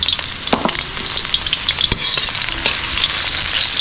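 Onion sautéing in hot cooking oil gives a loud, steady sizzle, broken by sharp scrapes and clatters as the pan is stirred.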